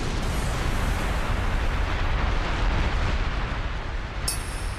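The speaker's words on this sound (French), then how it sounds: "Explosion dévastatrice de Léon." A cartoon explosion effect from a Beyblade special attack, a loud, sustained roaring blast with rumbling low end that runs through the whole stretch and ends with a brief bright burst.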